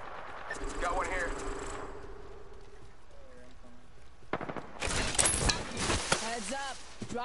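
Apex Legends gunfire erupts in a dense burst of sharp cracking shots after a quieter stretch, with voices and game sounds mixed in.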